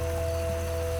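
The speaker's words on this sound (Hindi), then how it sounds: "बिजली के साथ ही और तेज झमाझम बारिश होने लगी।" Heavy rain pours in a steady, dense hiss, with a constant hum running underneath and no voices.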